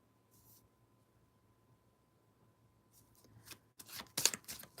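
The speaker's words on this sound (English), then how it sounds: "I just got sidetracked shuffling that major arcana again." Near silence gives way to soft riffling and sharp slapping noises as a deck of tarot cards is shuffled close by, getting louder toward the end.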